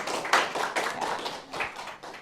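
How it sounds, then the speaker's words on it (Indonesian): Classroom students clapping their hands together, a dense burst of rapid overlapping claps that fades slightly after about two seconds, with faint voices mixed in. "Oke, tepuk tangan."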